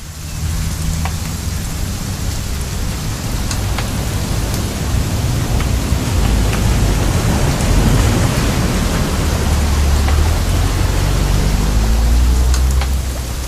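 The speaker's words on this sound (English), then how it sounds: "It's gonna rain the whole weekend," Steady rain hisses in the game What Remains of Edith Finch, a dense, continuous wash with deep thunder rolling in low and swelling toward the end, with no voices.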